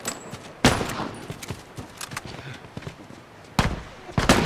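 Gunfire in The Last of Us Remastered: sharp, loud shots crack out in scattered bursts, with two heavy volleys near the start and end and lighter pops between, over a faint background of game ambience.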